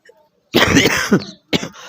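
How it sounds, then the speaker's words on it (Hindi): A single harsh cough up close, followed after a brief pause by a second shorter cough. "खांसी भी है"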